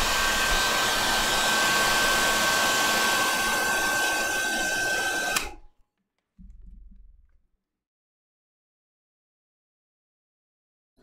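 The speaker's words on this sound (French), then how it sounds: "mais sèche-cheveux, qu'est-ce qui t'arrive?" A hair dryer blows loudly and steadily for about five seconds, then cuts off abruptly, followed by a brief low rumble and silence.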